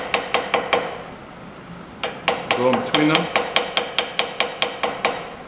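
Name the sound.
rivet hammer tapping a metal rivet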